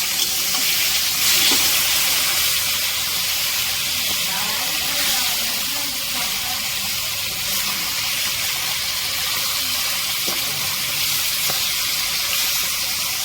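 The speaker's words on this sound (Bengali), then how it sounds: "মাছটাকে এবার লাল লাল করে ভাজা করে নিতে হবে।" Magur catfish fries in hot oil in a home kitchen, giving a steady loud sizzle and hiss that carries on unbroken with no talk.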